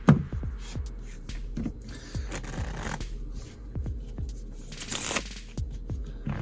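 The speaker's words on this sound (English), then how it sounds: "Then we can give the deck a couple of our shuffles." A deck of playing cards is riffled and shuffled repeatedly, producing quick crisp flutters and soft taps, close and fairly quiet.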